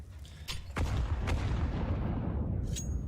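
Grenades going off in a CS:GO pro match: a few sharp blasts, then a heavy, rolling boom that lingers as a broad rumble, with more distant pops and gunfire scattered over the rest.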